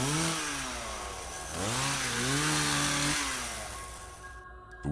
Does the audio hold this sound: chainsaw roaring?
yes